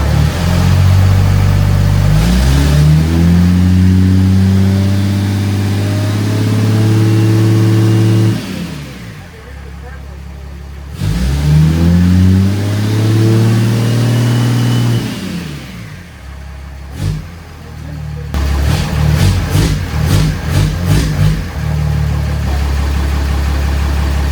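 A 6.7 Cummins diesel swapped into a 2nd Gen Mega Cab truck revs hard in several loud rising bursts, dropping back to a deep idle between them, close up and dominant throughout.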